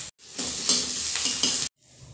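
Boiled potatoes frying with dried red chillies in mustard oil in a kadai: a close, steady sizzle rises as they are stirred, with brief scraping pulses and a short break near the end.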